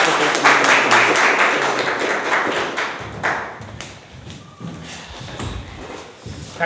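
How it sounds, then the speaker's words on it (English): An online club meeting fills with clapping that starts dense and loud, then thins into scattered individual claps and taps before fading. "Let's clap for Toastmaster Deepanshu"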